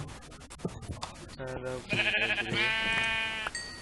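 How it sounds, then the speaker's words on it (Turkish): Sheep in the Minecraft video game let out several short, close bleats in quick succession, one after another. "Şu an burası koyun cenneti."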